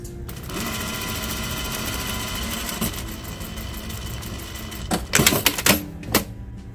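A sewing machine runs steadily, stitching the center back seam of a vintage robe, with a continuous whirring drone and a few louder bursts and clicks near the end.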